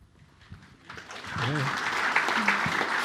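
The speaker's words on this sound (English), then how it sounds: "I'm getting a round of applause every time" Applause from a film festival interview audience starts faint and swells into steady clapping over the second half, with a voice speaking briefly amid it.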